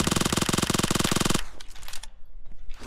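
A rapid automatic weapon in PUBG Mobile fires a fast, even burst of loud shots for over a second, then cuts off into quieter scattered clicks and rustling game sounds.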